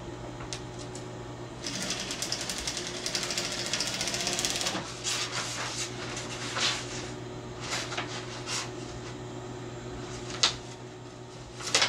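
A sewing machine runs steadily, stitching down a crease in buckram for a pleated drape, a continuous mechanical whirr with a rapid needle rhythm and small shifts in intensity, close by and without talk.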